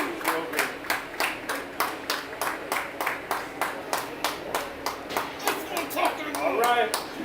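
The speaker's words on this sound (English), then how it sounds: "I'll bring you the cheering for the handshake." A crowd at a girls' 14U hockey game claps in steady, evenly spaced bursts during the post-game handshake, growing slightly louder and busier near the end.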